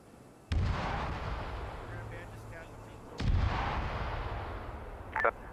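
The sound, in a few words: mortar rounds exploding in video game Arma 3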